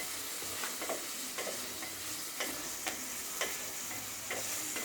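Chillies stirred and fried in a pan for a Kerala-style peperomia (mashithandu) thoran, with a steady low sizzle and a series of sharp scraping stir strokes spaced every half second or so, moderately close.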